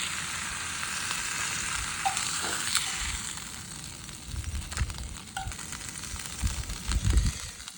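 Mangrove snapper fillets frying in a pan at a remote island campsite, a steady loud sizzle with occasional crackles and soft scraping of a utensil, no voices.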